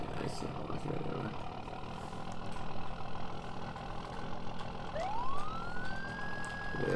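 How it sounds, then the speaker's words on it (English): A police-style siren wails on a Ford F450 in the Farming Simulator video game, sweeping up in pitch late in the clip over a steady engine and ambient background hum. "I do have a toggleable siren for this, which is pretty sweet"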